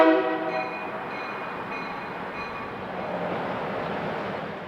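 CSX GP38-2 locomotive number 2613 runs in the evening, opening with a fading horn blast, then settling into a steady, moderate diesel rumble.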